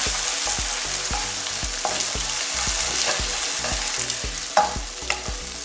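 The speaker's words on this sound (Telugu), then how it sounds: "ఇప్పుడు మనం దీన్ని బాగా ఫ్రై చేసుకుందాం." Beaten eggs with salt frying in a pan for egg lemon noodles, a steady sizzle broken by regular stirring clicks and a couple of sharper scrapes near the end.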